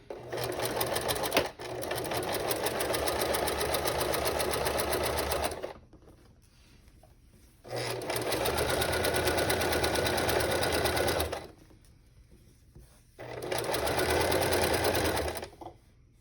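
A sewing machine runs close up while stitching a folded edge on a tote bag, in three long bursts of rapid, even whirring separated by short quiet pauses.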